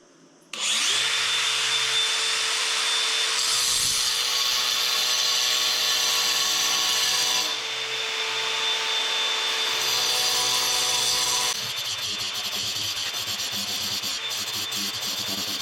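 A hand saw making a first cut: a loud, continuous rasping drone starting abruptly after a moment of quiet, holding steady with slight shifts in tone partway through, with no talking.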